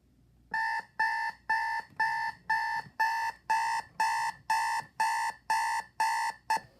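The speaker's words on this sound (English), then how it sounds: "Set the function switch to alarm in order to wake up to beeping." Alarm on a 1983 GE 7-4612A clock radio beeping in a steady pattern of about a dozen evenly spaced electronic beeps, each roughly half a second long, clear and close with no other sound.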